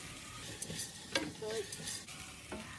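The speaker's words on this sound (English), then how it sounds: "You need to stir that until all the stock has been absorbed by the rice." Rice being stirred in a pan as stock is absorbed, giving a soft bubbling simmer with gentle sizzle and quiet scraping strokes of the spoon, faint and close, with a little background murmur.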